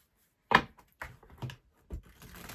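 A few quick riffling, papery bursts from a tarot deck being shuffled by hand, close and fairly quiet, in short separated clusters with brief pauses between them.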